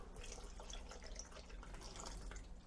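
Homemade gesso made with PVA glue pours into a container as a soft, steady liquid stream with faint trickling and splashing, continuous and fairly quiet throughout.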